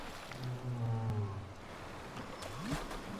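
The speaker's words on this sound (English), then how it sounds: "Do I hear a whale?" Whale vocalization in the survival video game Don't Starve: Shipwrecked, low drawn-out moaning tones with a rising call near the end over a watery ambient background.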